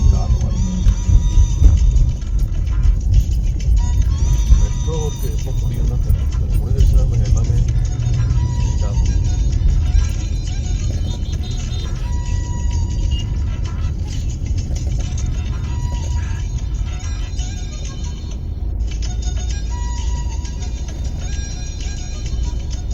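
Busy city road traffic with cars and government buses moving past a signal near metro construction work, a steady close rumble of engines and tyres with a constant roar that persists throughout, and occasional horn-like tones above.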